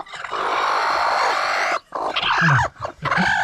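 A hen hatching chicks clucks and squawks up close in short agitated bursts, with brief pauses between calls.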